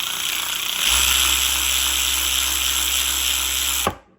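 A Mac 12V cordless ratchet runs in one continuous motor whine with a deeper buzz that kicks in under a second and holds until the trigger is released near the end, close and loud with no talking.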